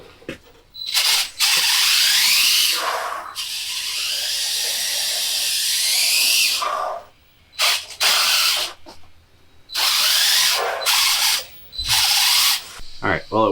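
Homemade 1/10 scale RC trophy truck driving in a driveway, its electric motor giving loud high whining bursts that start and stop repeatedly, close by, with brief quiet gaps between runs.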